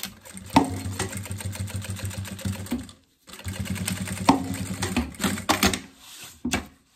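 Sewing machine stitching a finishing seam through lining and synthetic fabric on a toiletry bag, fast rhythmic needle clatter in two bursts separated by a short stop, close and clear with no talk.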